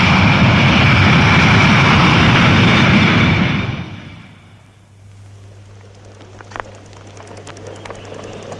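A fixed-wing aircraft taking off from runway 03, a loud roaring engine rush for the first few seconds that fades sharply into a distant low hum, with a faint click near the end.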